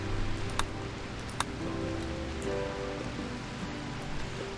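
Steady rain falling in the colony-building game RimWorld, a continuous broadband patter with a few sharp ticks of drops, even and unbroken for several seconds, with no voices.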